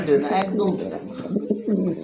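Pigeons coo close by in soft, repeated throaty calls, overlapping in a gentle rolling rhythm.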